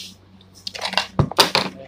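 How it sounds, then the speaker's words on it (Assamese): Pressure cooker lid being opened in a home kitchen after cooking through three whistles, with clattering metal clicks and a couple of sharp knocks over a faint hiss, close and moderately loud. "আমি কুকাৰৰ ঢাকন খুলিবলৈ ওলাইছো।"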